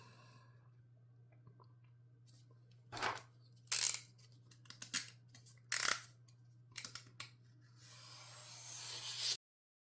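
Scissors cut out paper for a handmade album, with several short separate snips and rustles over a quiet background hum, ending in a longer stretch of paper rustling.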